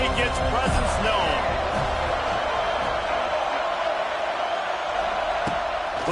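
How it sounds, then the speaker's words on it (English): Stadium crowd noise at an NCAA college football game in a video game, a broad continuous roar of many voices with scattered whoops and thuds, loud and steady throughout. "This crowd ready to make its presence known."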